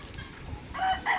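A turkey gives loud, harsh gobbling calls in two bursts toward the end, close to the mic, over faint background noise.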